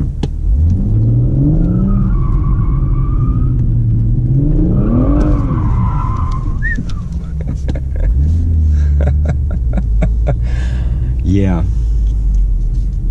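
A BMW M140i with traction control off is pushed in first gear. The engine swells and revs, tires squeal briefly, and a rumble continues underneath. People talk over much of it.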